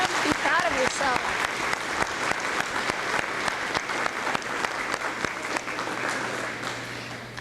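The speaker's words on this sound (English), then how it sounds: "Let's give those kids a round of applause" A crowd at an art club evening claps for a group of kids in brisk, sustained applause, with a voice talking over the clapping near the start.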